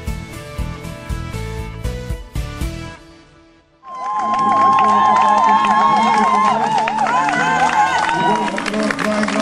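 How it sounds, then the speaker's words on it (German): Crowd at an adaptive sports event in Hawaii bursting into loud, sustained applause and cheering with whistles, following a brief lull after a stretch of louder activity. "Applaus."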